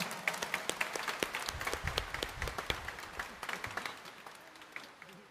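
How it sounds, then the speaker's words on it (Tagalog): A congregation at Quiapo Church claps together during a Sunday Mass, a fairly faint but steady run of sharp, overlapping claps lasting several seconds and thinning slightly toward the end. "pumalakpak ng mas malakas"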